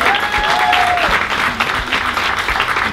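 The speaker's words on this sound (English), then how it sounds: "Let's give her a round of applause." An audience at a faith-based women's weekend event bursts into loud, continuous applause, a dense wall of clapping throughout with a short whistle near the start.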